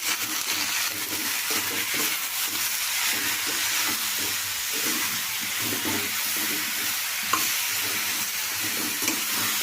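A spoon stirs turmeric and salt through bottle gourd curry in a pan, giving a steady soft scraping over a constant sizzling hiss that lasts throughout, with no talking.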